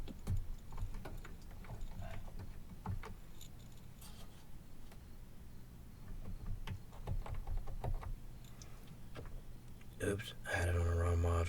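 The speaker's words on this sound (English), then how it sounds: "That's the buttons on the side of the keyboard." Buttons on the side of a MIDI keyboard controller being pressed beside a Percussa SSP module: scattered soft clicks and taps run through the clip under faint background noise, and a louder burst of synth sound comes near the end.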